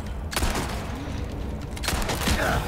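Gunshots ring out in the video game Resident Evil 4 Remake, two separate bursts of shots with faint game noise between them.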